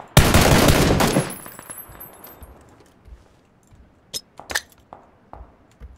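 Gunfire in the video game PUBG: a loud, rapid burst of automatic fire for about a second that fades into echoing tail, followed by sparse sharp single shots and clinks further off.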